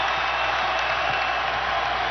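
Crowd at a college basketball game in an arena, Indiana against Xavier, giving a steady, loud wash of cheering and applause with no let-up.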